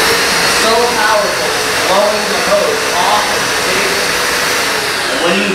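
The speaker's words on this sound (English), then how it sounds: "this is a whopping 4-horsepower blower on maximum, and when you turn it on, it's going to begin to shoot ozone across this room" A 4-horsepower blower on an ozone generator runs at maximum, a loud, steady, close roar of rushing air that stays constant throughout.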